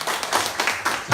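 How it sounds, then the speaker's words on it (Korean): Applause from a church congregation welcoming new members at a Sunday morning service, a short burst of steady group clapping, fairly close and full. "환영의 박수"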